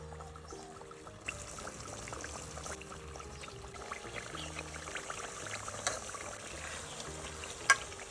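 Chicken pieces fry in a pan of oil for a Kashmiri-style chicken masala, a soft, steady sizzling hiss with faint pops and a few light clinks, fairly quiet and with no speech.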